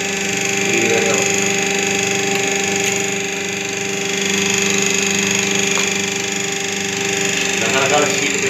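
A semi-automatic single-die hydraulic paper plate making machine runs with a steady droning hum and a few faint mechanical clicks and knocks near the start and end.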